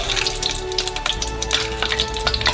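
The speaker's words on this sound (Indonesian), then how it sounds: "Segera setelah hangat, goreng cornognya." Steady, crackling sizzle of corn dogs deep frying in hot oil, close up and continuous, with no voices.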